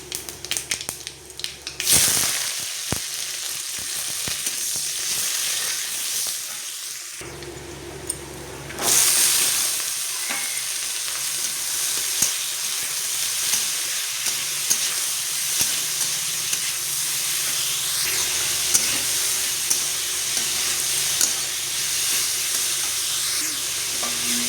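Ivy gourd, pointed gourd and potato fry in a pan with a steady, close sizzle and hiss, broken by stirring scrapes and brief bursts as pieces are tossed and turned, with no talking.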